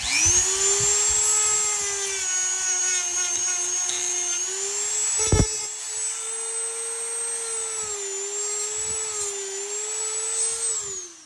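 A Dremel rotary tool shaves down a sonic screwdriver part, a loud, close, high steady whine that wavers slightly in pitch as the load changes, with a brief sharp bite partway through.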